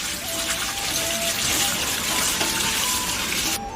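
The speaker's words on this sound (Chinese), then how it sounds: "用清水冲洗干净" Steady running tap water rinsing shrimp in a strainer, a continuous loud close gush lasting throughout without pause.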